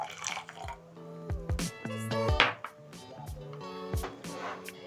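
Hot water trickles and splashes into a glass jar in short bursts, with drips and a rising filling tone, close up and fairly quiet.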